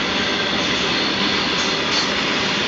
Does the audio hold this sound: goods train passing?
yes